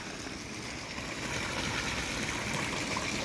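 A river flowing steadily at a bathing spot in Calauan, Laguna, as a continuous broadband wash of water that slowly grows louder, with no voices over it.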